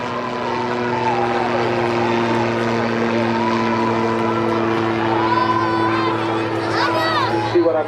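An autogyro flying at the Blackpool airshow, its propeller engine droning steadily at moderate distance with a subtle shift in pitch as it passes, and a commentator speaking throughout.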